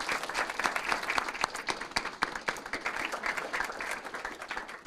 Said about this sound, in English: can we give everybody who participated another big round of applause